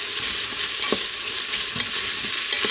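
Ground coriander and other spices sautéing in an Instant Pot, with a steady bright sizzle and occasional soft scrapes of stirring throughout.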